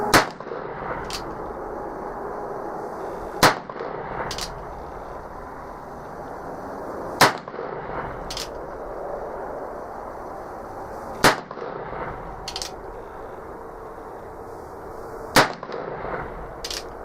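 Gunshots from a .45 Long Colt loaded with Blackhorn 209 powder: five loud, sharp reports, each followed by a quieter echo, spaced roughly four seconds apart over a low outdoor background.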